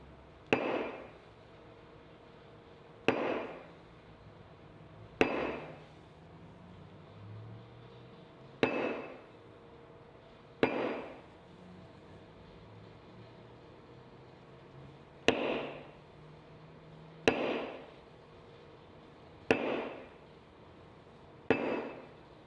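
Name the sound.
tapping a leather tooling stamp on a book cover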